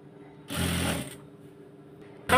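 A sewing machine stitches fabric in one short burst of steady rapid mechanical whirring lasting about half a second, then stops, with a brief second start at the very end.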